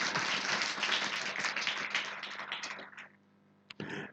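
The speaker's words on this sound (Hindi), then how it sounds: "हम बजा लो ताली अपने लिए" A church congregation bursts into dense, loud applause that goes on for about three seconds and then fades out, leaving a brief pause before a few final scattered claps.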